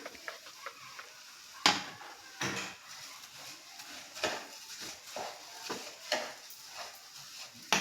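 Sugar and cardamom powder being mixed into semolina in a kadhai, heard as a quiet series of irregular scrapes and taps of a spoon against the pan over a soft sizzle, with no voices.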